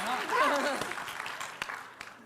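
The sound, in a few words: person clapping for themselves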